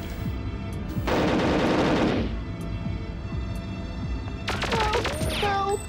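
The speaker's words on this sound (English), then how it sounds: "Whoa, you're already shooting at me." Rapid bursts of automatic gunfire in the Perfect Dark shooter video game, a dense rattling volley followed by scattered shots and electronic effects, with a player talking over the game.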